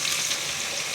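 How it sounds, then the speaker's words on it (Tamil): Thuthuvalai greens frying in oil, a brief, close, dense crackling sizzle that holds steady throughout. "தூதுவளை இலக்கீரை சேர்த்து வதங்கணும். எண்ணெயில் கீரை நல்லா வதங்கும் போது"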